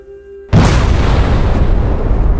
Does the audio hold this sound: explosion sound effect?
yes